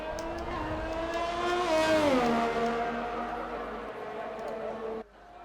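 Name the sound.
F1 racing cars driving out onto the track, from a video game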